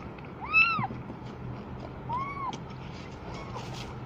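A mother cat that still has milk but has stopped nursing her kittens meows three times, the first call loud and near and the later two fainter, over a low background hum.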